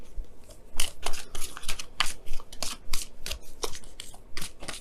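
Tarot oracle cards being shuffled by hand, a quick run of crisp riffling and snapping bursts repeating steadily at close range, with no talking.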